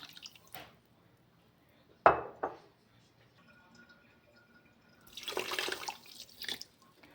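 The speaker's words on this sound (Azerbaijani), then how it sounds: "bir balaca belə fincan su əlavə eləyirəm" Water splashes and pours into a pot of cherry tomato jam for a second or two, after a couple of faint clinks and drips in an otherwise quiet space.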